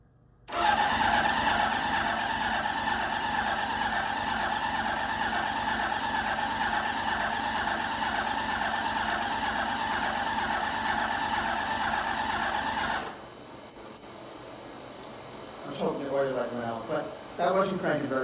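The starter cranks a 1972 Honda CB750 motorcycle engine in one long, steady, loud churning whir of about twelve seconds that cuts off abruptly. Quieter voices and some clatter follow.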